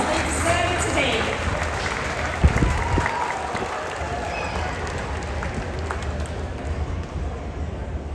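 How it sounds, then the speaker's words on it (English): Audience applause fills a cruise ship stage event aboard Wonder of the Seas, steady broadband clapping with a brief louder burst near the middle, with some crowd murmur and voices mixed in. "Please give them a huge round of applause."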